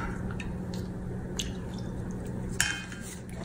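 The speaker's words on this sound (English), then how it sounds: "So first we're gonna add some warm water." Warm water trickles and drips into a bowl of cornmeal while arepa dough is being made, a close, soft liquid pour with a few faint clinks, no talking.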